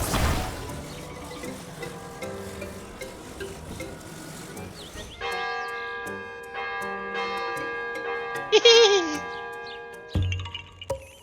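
A bell rung in the video game Zelda: Tears of the Kingdom chimes with sustained ringing tones over game music, followed by a brighter cascading flourish near the end.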